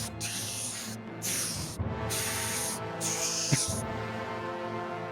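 Video game spray paint: bursts of hissing spray come in four or five pulses with short gaps, loud and close over a steady low hum, ending with a sharp knock.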